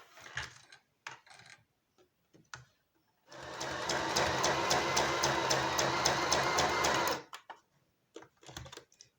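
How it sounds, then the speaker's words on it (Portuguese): A sewing machine stitches a Peppa Pig fabric doll in one sustained, close, rapid whirring run of about four seconds, framed by brief handling noises before and after. "Então, vamos começar a costurar."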